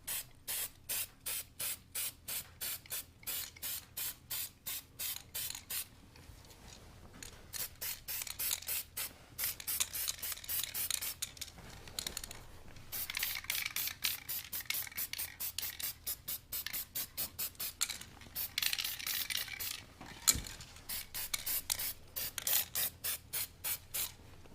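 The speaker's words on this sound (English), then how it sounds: "I'm using short little blasts of paint" Short bursts of spray paint hiss onto flowers, a rapid close series of brief sprays in clusters, then longer, more continuous sprays with occasional small clicks.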